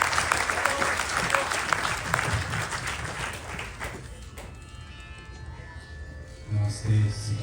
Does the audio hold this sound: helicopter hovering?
no